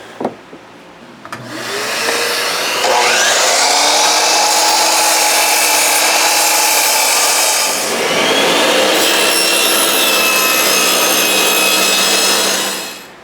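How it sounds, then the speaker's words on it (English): A power saw set back to 90 degrees cutting a wooden board for freestanding shelves: the motor spins up with a loud rising whine, the blade chews through the wood for several seconds, dips, then bites again before winding down. "I can put my saw back to 90 over here, and I can cut this off"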